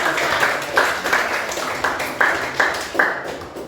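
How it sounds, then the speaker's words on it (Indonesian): A group applauds in a classroom setting, a short burst of hand claps with several distinct sharp peaks spread over a few seconds, fairly close and not especially loud. "Kita berikan tepuk tangan untuk kita."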